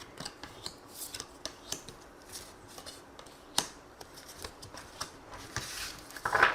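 Tarot cards shuffled and drawn for a reading: a close, quiet run of crisp papery snaps and rubbing flicks in uneven bursts, with a brief louder riffle near the end and no voice.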